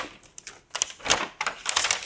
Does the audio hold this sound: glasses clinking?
no